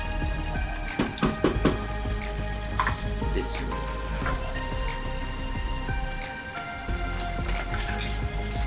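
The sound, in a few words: chicken added to sizzling masala in a karahi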